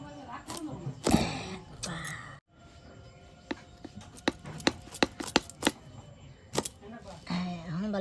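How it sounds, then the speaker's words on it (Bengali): Knife cutting the end off a heavy bottle gourd for payesh, a series of sharp chopping knocks in irregular bursts, close and moderately loud, alongside a voice speaking. "আমি এই মাথাটা কেটে নিব।"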